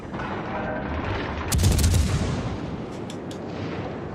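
Warship guns boom in World of Warships Legends, a burst of heavy artillery fire rolling through the middle, with a few further distant shots and battle rumble around it.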